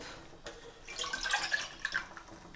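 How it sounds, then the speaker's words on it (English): Thick tamarind pulp pours and splatters with wet drips and plops, close by, with no voices. "But first I'm going to pour the tamarind pulp"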